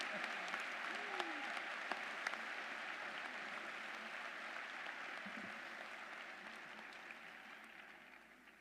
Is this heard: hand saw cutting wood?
no